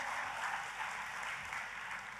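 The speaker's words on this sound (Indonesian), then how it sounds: "Tepuk tangannya pula yang paling meriah buat Tuhan kita." Church congregation clapping enthusiastically during a worship service, a steady dense wash of many hands applauding together throughout, moderately distant with no voices standing out.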